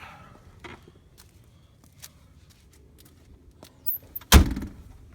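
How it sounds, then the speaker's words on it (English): Doors of a 2003 Ford Explorer Sport Trac XLS pickup are handled and opened, with quiet clicks and rustling building to a loud thunk of the door near the end. "So open the back doors."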